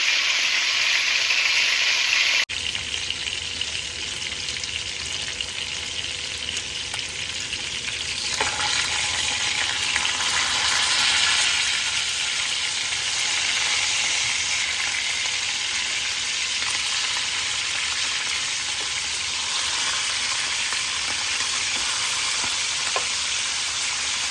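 Beef short ribs sear in a hot pan with a loud, continuous sizzle that runs close and unbroken, with faint scraping now and then.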